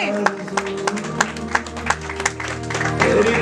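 Audience applause at an International Women's Day event held by a charitable trust, steady rhythmic clapping with sharp regular peaks over a background of music.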